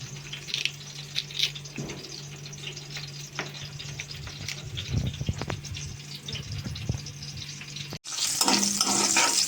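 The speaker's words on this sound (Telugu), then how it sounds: "పచ్చిమిర్చి వేగిపోయినాయండి స్టవ్ కట్టేసుకున్నాం" Green chillies fry in a pan for a raw wood apple chutney, a steady soft sizzle with occasional stirring scrapes, then a sudden louder rushing hiss near the end.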